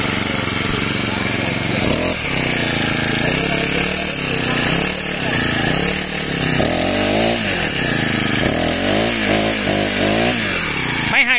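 A Honda GX35 four-stroke grass trimmer engine runs loud and close, a buzzing rasp that revs up and settles repeatedly in rising and falling surges, with someone talking over it.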